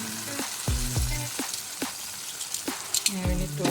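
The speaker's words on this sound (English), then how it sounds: "then we need to flip our fish" Fish sizzles on a grill as it is flipped, a steady crackle and hiss broken by several close clattering knocks from handling the fish and the grill.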